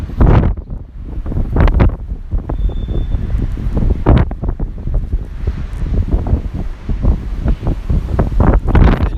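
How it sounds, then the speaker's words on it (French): Strong wind blasts through a railway station in rain, roaring and buffeting the microphone in continuous loud gusts with deep rumbling surges. "Parce que là c'est furieux le vent, vraiment trop."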